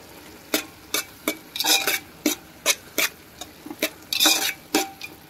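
Malvani chicken tossed with homemade masala in a pan, stirred with a spoon in a quick series of scraping strokes and clinks over a faint sizzle, close and loud, with no talking.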